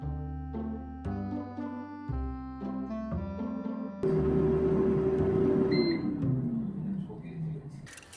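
A microwave oven heating frozen shrimp gives a few beeps from its buttons, then a steady hum as it runs, loud and close.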